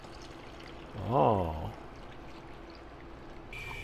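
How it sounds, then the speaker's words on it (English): Color developer poured back from a film developing tank, a short liquid pour of under a second that rises and falls in pitch as the vessel fills, heard close and alone against a low steady room hum, with one brief exclamation. "we're going to pour this back. This is color developer"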